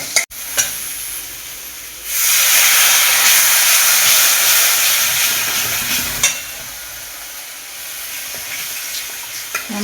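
Spice paste with turmeric powder sautéing for a tomato bhetki curry, a loud steady sizzle with stirring scrapes that swells after a short quieter start and carries on, with no talk.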